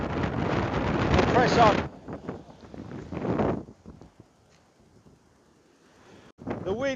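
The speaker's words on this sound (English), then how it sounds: "The wind now is so rough." Strong, rough wind buffets the microphone on the shingle of Chesil Beach, a loud broadband roar that drops away after a couple of seconds as someone talks over it.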